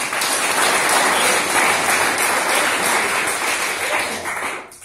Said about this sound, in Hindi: तालियां होनी चाहिए नहीं होनी?